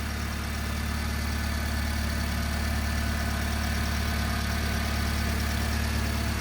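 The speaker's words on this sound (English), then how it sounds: "nice and smooth running engine, no odd noises or vibrations" A 2011 Honda Civic Coupe engine idles steadily at close range, a smooth continuous hum with no speech and no change in pitch.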